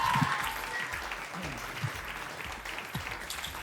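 Sustained clapping fills the studio of Armenian TV singing show Two Stars, with the audience applauding steadily while a voice talks over the clapping.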